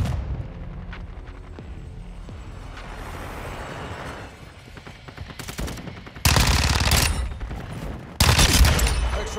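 Automatic weapon fire in Call of Duty: Modern Warfare II, with scattered shots and mechanical clatter building into two loud, sustained bursts of rapid gunfire near the end.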